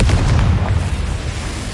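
Confringo blasting curse in the video game Hogwarts Legacy, a loud, close explosive boom with a heavy low-end rumble that rolls on briefly before fading slightly.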